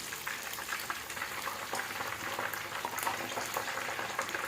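Chicken kabab leg pieces frying in hot oil, a dense bubbling sizzle that stays loud and even throughout with no voices.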